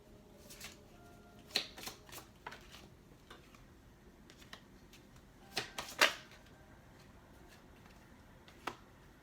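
Soft, irregular riffling and snapping of tarot cards being shuffled, a few sharper flicks standing out against a quiet room, no voices.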